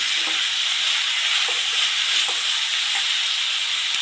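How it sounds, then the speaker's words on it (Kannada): Moong dal frying in a pan for palak uppittu, a steady broad sizzle throughout with a few faint stirring scrapes, close and even, no voices. "ಹೆಸರುಬೇಳೆನ ಹಾಕೋಣ. ಫ್ರೈ ಮಾಡ್ಕೊಳ್ಳಿ."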